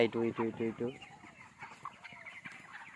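A rooster on a poultry farm gives short clucking calls near the start, then fainter fowl sounds continue in the background.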